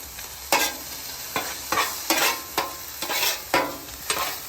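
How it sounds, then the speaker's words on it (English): Onions and a ribeye steak fry on a Blackstone griddle set to low, a constant close sizzle punctuated by regular scraping stirs of a spatula against the flat metal surface. "Got that ribeye on there, griddle's on low."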